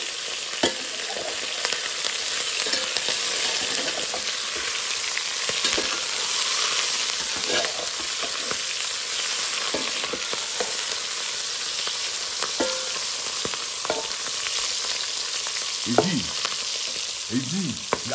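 Shrimp sautéing in a pan for a Creole-style shrimp-and-egg dish, giving a steady close sizzle and frying crackle throughout with a few scraping stirs near the end.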